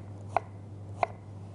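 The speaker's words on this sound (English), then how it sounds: "So let's cut some onions." A knife chopping onions on a board: two crisp, isolated cuts about two-thirds of a second apart over a quiet, steady kitchen hum.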